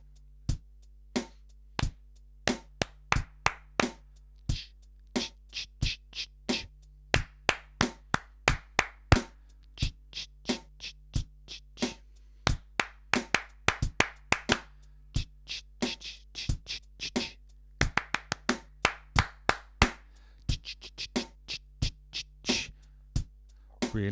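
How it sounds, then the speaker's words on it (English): Sharp, close hand claps in short rhythmic phrases, with a leader's pattern answered by an audience clapping it back. The bursts repeat regularly over about twenty seconds in a quiet room. "I'm going to clap something, and I'd like you to clap it back"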